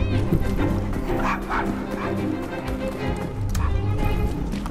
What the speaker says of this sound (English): I'm gonna save you, doggy.